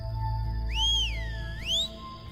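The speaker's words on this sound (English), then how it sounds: "and the whistle was returned again." A single whistled reply, very human-sounding, rises into a long sustained tone, dips low and swoops back up before cutting off, fairly close and clear over a low steady rumble.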